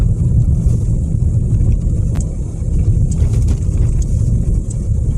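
A car driving home along a road, with a steady, loud low engine and tyre rumble continuing throughout and no talking.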